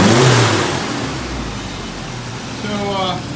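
A Chevy Blazer's engine running after a fuel pump check, a close, steady idle that rises into a rev near the end, with someone talking over it.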